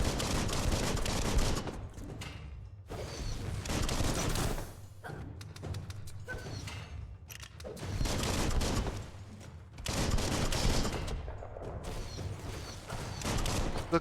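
Video game gunfire from Biomutant crackles in repeated bursts of rapid shots, separated by short gaps of quiet, loud and close throughout.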